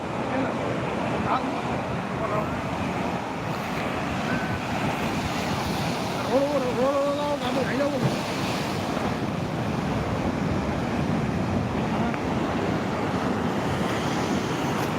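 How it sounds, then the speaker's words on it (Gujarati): Steady surf of the sea near Diu rolls and washes in continuously, mixed with gusty wind noise buffeting the microphone, and a brief voice briefly comes through. "આ દરિયો જો ને દરિયામાં આવ્યા"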